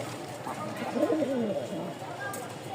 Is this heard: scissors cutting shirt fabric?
no